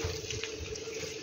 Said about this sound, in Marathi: आपण त्या स्वच्छ अशा धुवून घेऊया